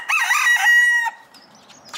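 An Ancona bantam rooster crows once, loud and close, a strained harmonic call lasting about a second, followed by quieter clucking.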